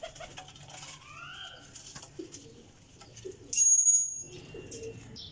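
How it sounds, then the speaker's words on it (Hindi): Chapra pigeons, an old breed kept by a pigeon fancier, coo softly amid chirps and a brief wing flutter, with a sharp high burst near the end and light ambient noise throughout. "ले दोस्तों हुण आ गए चपड़े कबूतर माशाल्लाह"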